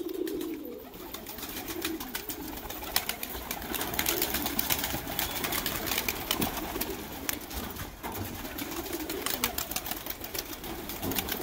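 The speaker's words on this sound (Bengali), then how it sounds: "দেখুন বন্ধুরা কত পায়রা।" A large flock of high-flying pigeons at a home loft in Nakashipara, Nadia, coo steadily against a dense, noisy outdoor background, the soft calls running on without a break and no voices heard.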